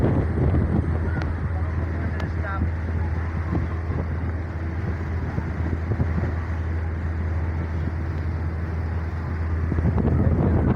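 Motor launch MB Tarango 7 moving at speed, a steady low engine drone with rushing wind and water noise throughout, loud and continuous with a few faint knocks.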